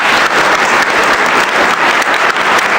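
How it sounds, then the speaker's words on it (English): An audience claps after a policy speech by a Wage and Hour Administrator, dense and loud, with sustained even applause filling the room and no voices over it. "a big round of applause to"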